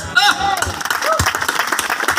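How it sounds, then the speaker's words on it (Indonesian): Congregation clapping for Jesus during a church groundbreaking service, steady overlapping claps over 2 seconds mixed with voices and talking. "Kayaknya saya mau tepuk tangan terus untuk Yesus ini"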